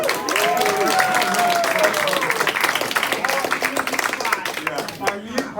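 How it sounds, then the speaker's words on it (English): Audience clapping at a fitness lecture, a dense wash of hand claps with a whoop or cheer rising over it, steady and close for several seconds with some voices mixed in. "Oh, give her a round of applause."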